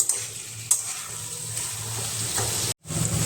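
Fried prawns and potatoes stirred in sizzling spice masala, a loud continuous frying hiss close by with scraping spatula strokes and a brief break near the end, no voices.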